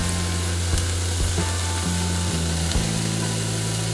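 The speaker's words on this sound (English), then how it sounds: "Vidalia onions themselves are a sweet onion. So this is going to take a little bit of time. So just start cooking them." Sweet Vidalia onions cooking in a pan, a continuous loud sizzle under a steady hum, broken by a few clicks and stirring scrapes.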